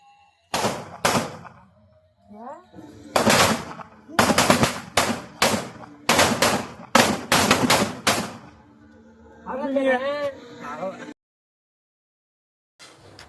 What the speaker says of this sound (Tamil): அவங்க தான் வெடி வச்சிட்டு இருந்தாங்க.